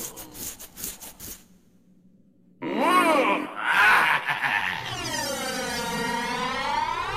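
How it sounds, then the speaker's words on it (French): Cartoon back-scratching in an animated zombie hotel series, with rasping scratch bursts then loud groaning, moaning vocal sounds of relief that rise and sweep over several seconds. "Ça fait plus de 4000 ans que j'attends de pouvoir enfin me gratter le dos."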